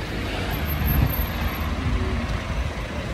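Car traffic on a street torn up by roadworks, a continuous low roar of passing vehicles with a brief louder swell, heard from nearby.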